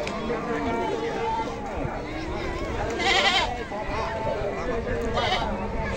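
Goats bleat repeatedly amid a busy crowd at a large livestock market with cattle and buffalo, with people talking throughout and animal cries rising over the chatter.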